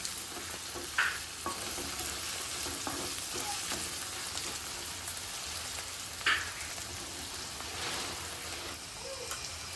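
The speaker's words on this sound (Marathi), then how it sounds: "सात ते आठ मिनटं आपला कांदा आणि टोमॅटो चांगला शिजते बघा असं छान शिजलं आहे" Onion and tomato cook down in a pan for chicken Kolhapuri, giving a soft, steady sizzle with occasional stirring scrapes and clicks.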